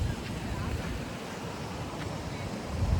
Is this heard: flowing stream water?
yes